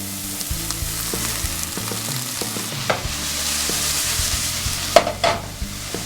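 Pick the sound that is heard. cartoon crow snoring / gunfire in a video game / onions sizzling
onions sizzling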